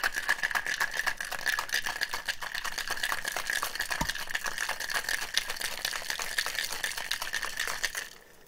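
Ice cubes rattle hard inside a sealed Boston shaker cocktail tin, shaken in a fast, steady rhythm of loud, close clatter for about eight seconds before stopping abruptly.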